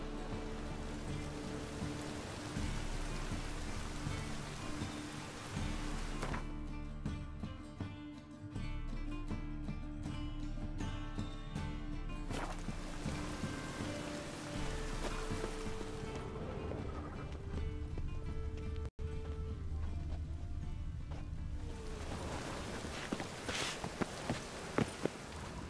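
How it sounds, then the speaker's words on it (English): Steady rain falls in The Witcher 3: Wild Hunt, a continuous hiss under game music that swells and drops, with scattered footstep-like taps near the end. "Looks like rain."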